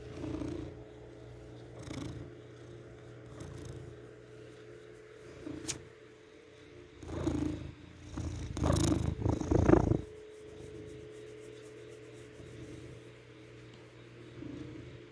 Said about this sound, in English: He's got such a great purr.